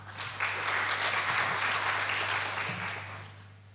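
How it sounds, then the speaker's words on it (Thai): Audience applause welcoming a speaker at a crowdfunding and innovation event, a sustained wash of many hands clapping at moderate distance over a steady low hum, fading slightly toward the end. "ขอเสียงปรบมือต้อนรับผู้ก่อตั้งและประธานเจ้าหน้าที่บริหาร"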